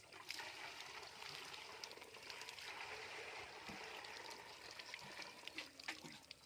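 Water poured from a container into a bucket at a rural well, a steady splashing and gurgling pour lasting several seconds at moderate level with no talk over it.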